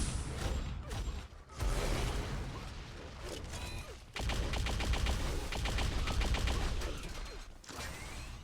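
Rapid rifle fire in an Unreal Tournament competitive match, a fast chattering burst of repeated shots amid mechanical clatter and whooshes, fairly quiet and mixed with game ambience.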